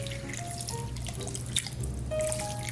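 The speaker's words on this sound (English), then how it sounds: "You gotta add 1 cup of water to your dish before you cover it and bake it." Water poured into a baking dish of pasta before it is covered and baked, a light steady trickle and drip heard close up with no talking.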